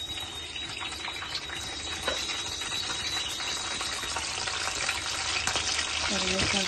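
Curry leaves go into hot oil in a home kitchen pan, producing a steady, dense sizzle and crackle that lasts throughout, with a few faint clinks near the end.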